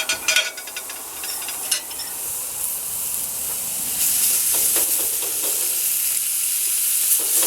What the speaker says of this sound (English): we've had the souvlaki on the barbecue for a few minutes, probably about 3 or 4